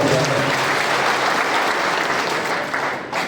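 Loud audience applause at a community association meeting, dense steady clapping filling the room for a professor from Osmania University, tapering slightly near the end.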